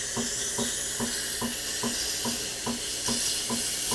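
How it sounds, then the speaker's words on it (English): A Breville Barista Pro steam wand being cleaned hisses continuously, with a steady rhythmic pulsing of about two beats per second running through the hiss. "I would switch on the froth so that we clean the"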